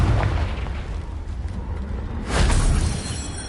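A Confringo spell explosion in the video game Hogwarts Legacy: a loud, deep boom with a rumbling tail, swelling again into a second heavy burst near the end.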